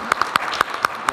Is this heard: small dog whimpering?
no